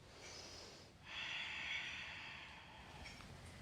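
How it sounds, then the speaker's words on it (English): Slow, audible breathing during a yoga class: a breathy intake swells and holds for about a second, then eases off, close to the microphone over a soft background rumble. "Take a few breaths here."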